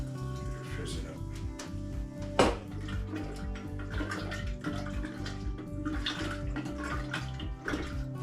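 Pepsi is poured into a fish brine mixed with water, bubbling and fizzing continuously with splashy liquid sounds beneath a person talking.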